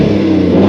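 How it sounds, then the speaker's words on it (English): Audi RS4-R ABT engine revving in comfort mode with the exhaust valves closed, mostly engine note with a muted exhaust; a brief, steady, loud drone. "Mostly engine sound with a little bit of a muted exhaust sound"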